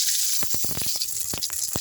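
Mustard seeds hit hot oil for tempering a guava chutney, giving a close, constant sizzle broken by sharp crackling pops.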